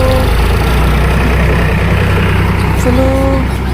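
A tractor engine idles close by, a loud steady low rumble with a constant throb, a brief higher tone rising over it near the end.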